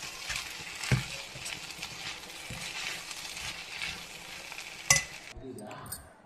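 Coarsely ground peanuts being stirred into Andhra-style okra stir-fry in a hot pan, a soft continuous sizzle with scraping spoon strokes and a couple of sharp clinks before it cuts off.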